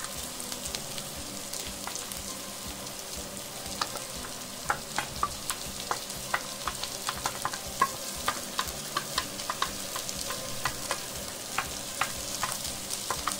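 Ginger and garlic sizzle steadily on low heat in a hot pan, with soft scraping and clicking from stirring, and no voices.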